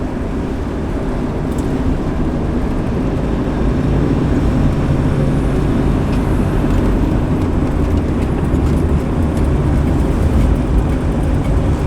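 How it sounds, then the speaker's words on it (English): A 1969 Camaro Z28 with a stock, lumpy-idling engine rumbles loudly and continuously up close, a dense low growl with no talk over it. "it's amazing the sound and the lumpiness that this car has"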